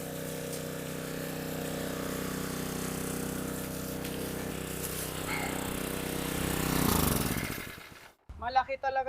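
A motorcycle engine runs steadily and close, a continuous droning rumble that swells near the end and then cuts off abruptly, followed by people talking.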